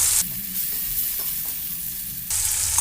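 Spices frying in a kadai on a gas stove, stirred with a spoon for kadai paneer, giving a steady close sizzle with soft scraping strokes and no voices.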